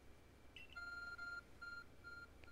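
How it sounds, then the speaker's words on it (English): An ARC phone in the video game Pokemon Legends: Arceus reacts to Munchlax with a series of clear electronic beeps, four evenly spaced tones after a short chirp, faint over quiet game background. "Your ARC phone is reacting to Munchlax and displaying his destination."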